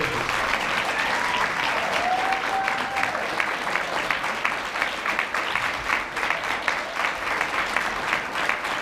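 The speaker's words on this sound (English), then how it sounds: "Gold builders, big round of applause for our gold builders." A hotel meeting-room audience at a PlanNet Marketing presentation gives gold builders a steady, dense round of applause that fills the whole stretch at even loudness, with faint voices and a brief whistle in the crowd.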